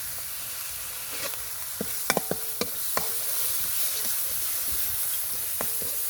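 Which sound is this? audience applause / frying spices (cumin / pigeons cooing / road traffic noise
frying spices (cumin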